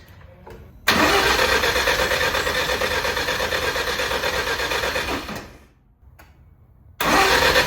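A car engine, low on fuel, cranks loudly and steadily for about four seconds without catching. After a short pause the starter begins grinding again.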